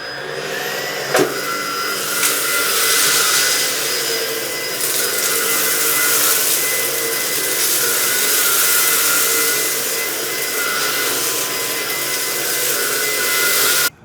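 A Hoover ONEPWR Emerge cordless vacuum runs steadily and loudly at close range, a constant broadband whoosh and motor whine that holds for about fourteen seconds before cutting off abruptly.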